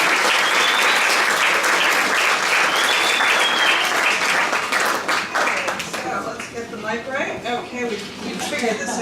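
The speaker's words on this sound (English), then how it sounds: "Are you ready to applaud, everybody?" An audience at a PechaKucha evening in Chicago claps loudly and continuously, dense applause that thins toward the end with a few cheers mixed in.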